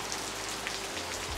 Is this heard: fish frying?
no